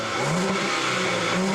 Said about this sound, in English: one thing that will always wow you is the sound of that engine